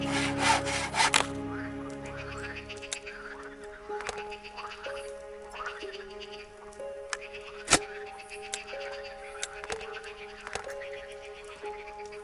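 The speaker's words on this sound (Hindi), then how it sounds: "शो से इस लकड़ी को काट लेता हूँ।" Wood being sawn with a hand saw in the Lost Lands 2 forest gate puzzle, a rhythmic scraping stroke sequence mixed with game ambience and bird-like calls, with a loud burst at the start.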